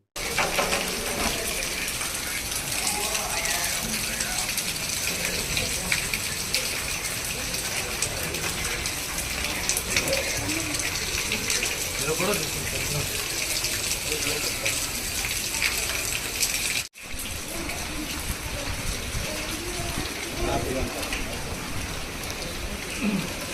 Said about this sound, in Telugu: వాటర్ లీకేజ్ చూడండి చిన్న పని పది రూపాయలు ట్యాప్ బిగించుకుంటే పోయేది